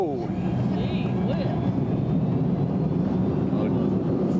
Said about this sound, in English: A former jet jockey here, flying reverse thrust.